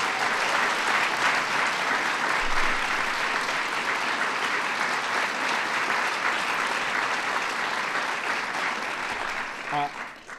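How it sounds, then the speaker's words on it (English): A large audience at a National Medal of Arts ceremony applauds in honor of pianist Andre Watts, sustained dense clapping that fills the room, then tapers off in the last moment. "So give him a big round of applause in his absence."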